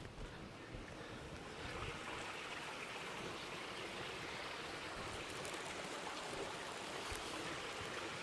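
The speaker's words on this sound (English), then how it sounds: "Amazing water feature, cascading waterfall in your backyard." A cascading backyard waterfall feature at a mesa property near the ocean gives a faint, steady, even rush of falling water throughout, with no voices.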